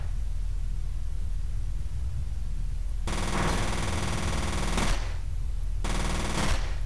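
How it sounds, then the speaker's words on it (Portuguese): Dense bursts of rapid automatic gunfire in the video game F.E.A.R. 3, loud and close, in three sustained volleys separated by brief pauses over a steady background hiss. "Olha o tanto de tiro que eu tô dando no maluco pra ele morrer."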